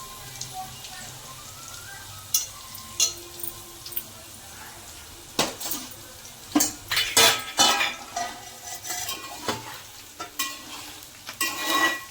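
Bitter gourds frying in oil over a low flame, a soft continuous sizzle under repeated close clinks and scrapes of a spoon stirring against the pan, irregular and fairly loud, with no talk.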